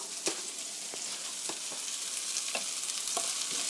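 Chopped garlic and onion sizzle in a hot pan for Korean braised chicken: a steady, close frying hiss with a few sharp crackles and pops scattered through it.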